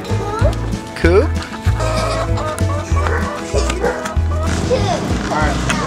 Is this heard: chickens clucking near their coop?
yes